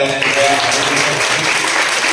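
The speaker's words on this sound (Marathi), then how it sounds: "एकदा दोन टाळ्या" Steady clapping from a crowd at a Swaminarayan temple festival, dense and continuous throughout, with some murmuring voices mixed underneath.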